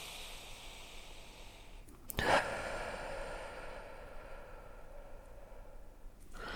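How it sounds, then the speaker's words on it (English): A person takes a deep breath, with a sharp audible inhale followed by a long, soft exhale, close and fairly quiet against a light background hiss. "We ask you to take a couple of big, deep breaths with us now"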